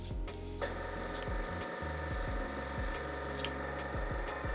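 An airbrush sprays paint onto an Ork miniature, making a steady hiss with a mechanical whir underneath that carries on with small stuttering pulses and spatters, up close and continuous.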